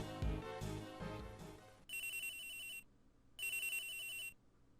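Phone ringing in the Ace Attorney Investigations 2 video game, two clear electronic ring bursts separated by a short gap, heard alone after a stretch of background music.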